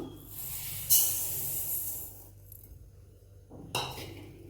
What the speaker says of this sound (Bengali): কড়াইটা বেশ গরম হয়ে গেছে এখন আমি মুগ ডালটা দিয়ে দেবো